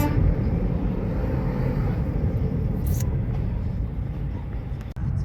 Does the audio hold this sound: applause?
no